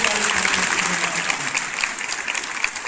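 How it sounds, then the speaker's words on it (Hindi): Applause from a school audience fills the hall, a steady dense wash of clapping at even loudness throughout, with no voices standing out. "ताली बजाएंगे"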